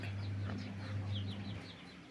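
A female red junglefowl hen clucks softly in a series of short, chirpy notes over a steady low hum, fairly close.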